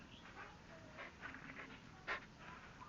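A dog panting close by, quick soft breathy huffs in a steady rhythm with a brief louder snort near the end, in a backyard setting.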